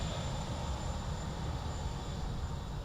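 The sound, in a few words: aircraft passing at Dublin Airport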